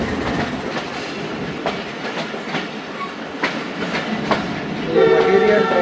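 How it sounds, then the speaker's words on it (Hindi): A material train crosses on a single-track line in Pakistan, heard from aboard a passing train: steady rumbling clatter throughout, with a horn sounding briefly near the end. "ये मटीरियल ट्रेन है और देखें जनाब कैसे क्रॉसिंग होती है सिंगल लाइन पे।"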